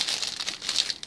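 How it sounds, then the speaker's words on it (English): A plastic gift bag crinkles up close in a quick burst of crackly rustling as it is pulled open, lasting about a second with no voice. "Sorry about the crinkling again"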